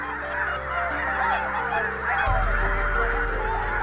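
Red-breasted geese honking in a huge flock, a dense loud chorus of overlapping calls that swells slightly partway through as more birds join in.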